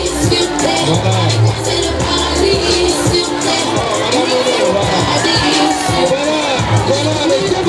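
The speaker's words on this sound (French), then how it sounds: "applaudissez pour les encourager." A large crowd of students at a school sports and cultural day cheers, shouts and applauds continuously, with children's voices whooping loudly through the steady, dense roar.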